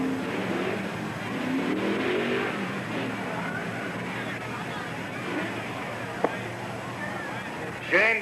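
Race cars roar around a speedway at the start of a Sportsman feature, a broad distant engine drone with crowd hubbub, under an announcer's voice.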